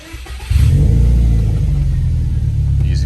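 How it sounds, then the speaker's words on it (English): A car engine cranks and catches after its battery was reconnected, the starter noted as worn, then settles into a steady, smooth, loud idle rumble close by. "Easy peasy, nice start, good idle, nice and smooth, good to go."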